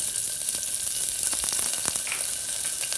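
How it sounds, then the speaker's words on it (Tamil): Chopped sambar onions hit hot coconut oil for a lentil kuzhambu, giving a steady, loud sizzle with scattered sharp crackles and pops throughout. "எண்ணெய் சூடானதுக்கப்புறமா நம்ம கட் பண்ணி வச்சுக்கூடிய சாம்பார் வெங்காயத்தை இதில் போட்டுடலாம்"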